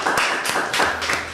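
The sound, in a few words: applause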